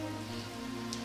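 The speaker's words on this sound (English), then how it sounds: "I wish the rain would stop just once." Steady rain pouring in a film scene, a dense, continuous hiss of drops striking surfaces with a low hum underneath.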